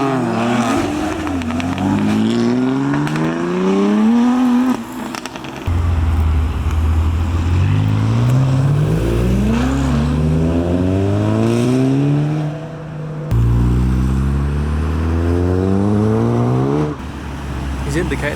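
A BMW M2 pulls away from a car meet, its engine revving hard through several rising acceleration sweeps broken by gear changes, loud and close, with people talking over it.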